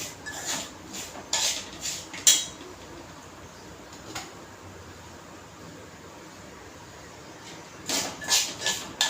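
Semolina being dry-roasted in a pan for sweet sheera, with a spoon scraping and clinking against the metal in quiet, intermittent bursts, a few sharp clinks near the start and a cluster toward the end.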